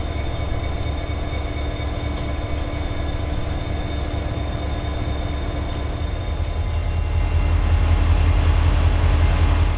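CSX freight train M523 rolling past on the M&M Subdivision near Flomaton, a loud continuous rumble of rail cars with clanking wheels and a deep engine drone that grows heavier toward the end.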